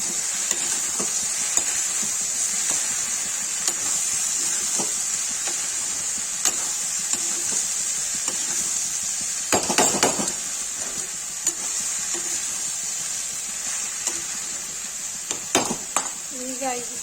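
Okra fries in a pan with turmeric and red chili, giving a loud, steady sizzle and hiss, with occasional scraping clatters as it is stirred and a voice speaking now and then.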